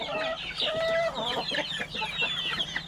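Hybrid laying hens clucking close by, several birds overlapping in a busy, continuous chorus of short clucks and higher calls in a coop with eggs.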